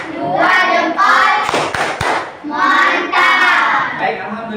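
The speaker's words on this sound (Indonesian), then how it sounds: "Tepuk 2 jempol." A class of children doing a rhythmic thumb-clap routine in a classroom, clustered bursts of clapping with a couple of thumps between, close and fairly loud.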